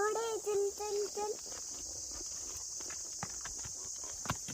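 A horse walks along a path toward the jungle with a steady clip-clop of hooves close by, under a constant high insect chirp, while a voice sings briefly at the start.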